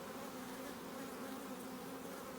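A dense, steady drone of honey bees fills the air during a hive inspection of a newly installed package colony, close and constant with no talking.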